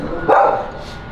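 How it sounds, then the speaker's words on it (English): A neighbor's dog outside a Los Angeles apartment gives a single short bark, fairly close, against a low background hum. "Got forced inside by the neighbor's dog."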